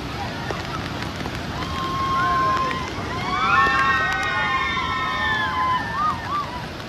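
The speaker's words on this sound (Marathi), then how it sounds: "पाणी पाहू शकता कसं भयानक वाहत आहे इथे" A large monsoon waterfall at Palshi on Tamhini Ghat roars as a steady, dense wash of rushing water, with excited crowd voices and shouts rising over it from the middle onward.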